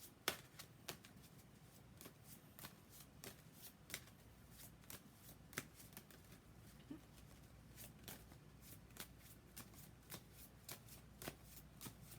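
Tarot cards shuffled by hand in summer, when they are harder to work with: a rapid series of soft riffling snaps and slaps repeating at a steady pace, close but quiet in a still room.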